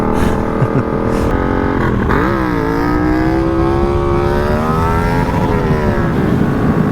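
A motorcycle engine revs hard and close during a wheelie, its loud droning pitch dipping, then climbing and holding high for several seconds before easing slightly, with no talk over it.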